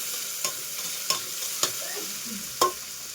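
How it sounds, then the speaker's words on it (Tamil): Mushroom, onion, tomato and chilli sautéing in a pan for mushroom biryani, a steady soft sizzle broken by four sharp clinks of a stirring spoon against the pan, close and without talk. "வதக்கிக்கலாம்."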